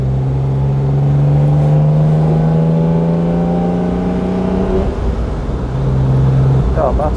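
A fully restored 1969 Mercedes 280 SL Pagode with a four-speed manual gearbox drives along, its engine holding a steady loud drone that climbs in pitch for several seconds, drops as the revs fall, then surges again briefly near the end.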